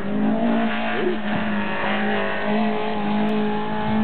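A Peugeot 205 GTI sprints at the St Eval speed event, its engine droning steadily with a sustained tonal whine and brief rising revs, heard from close by without talk.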